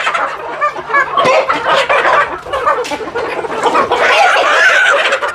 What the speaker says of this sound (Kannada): ನಾಟಿ ಕೋಳಿ ಅಂದರೆ ಹೀಗೆ ಕೆರ್ಕೊಂಡು ಹುಳ ಉಪ್ಪಟೆ ತಿನ್ಕೊಂಡು